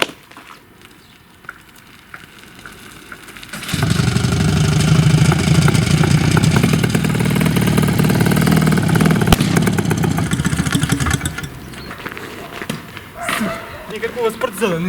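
A Jawa motorcycle engine on a homemade buggy kart starts up and runs with a steady mid-pitched putter and revving for several seconds, then cuts off, with people talking before and after.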